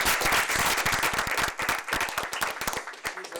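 An audience at a parenting workshop breaks into close, loud applause that starts dense and thins toward the end into scattered individual claps.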